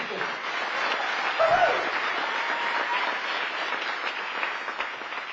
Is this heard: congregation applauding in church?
yes